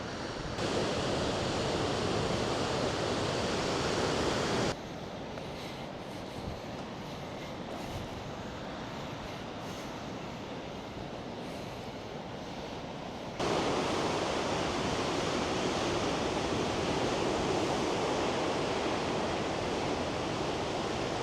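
Surf on an empty autumn beach at Şile, Istanbul, a continuous broad roar of breaking waves that swells and eases in long stretches, close and steady with no voices.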